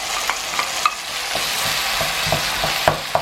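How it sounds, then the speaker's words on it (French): Chopped onion and two garlic cloves fry in olive oil, a loud continuous sizzle broken by periodic clinks and scrapes of stirring, with no voices. "On va venir y jeter notre oignon avec nos 2 morceaux d'ail."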